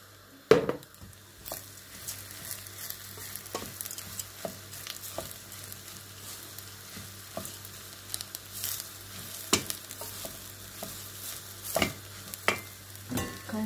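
Bulgur pilaf with onion, garlic and tomato paste stirred in a pan, a soft continuous sizzle broken by scattered scraping and clinking of the spoon, close and quiet with no talking.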